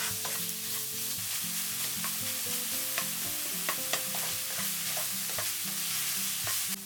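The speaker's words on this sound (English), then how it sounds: "Add 1/4 teaspoon of salt, a good pinch of ground pepper. Stir for 3 minutes." Ground pork with salt and ground pepper is stirred in a hot pan over high heat for Thai rice noodle pork soup. Steady, loud sizzling and frying runs throughout, broken by repeated scraping and clattering stirring strokes close by.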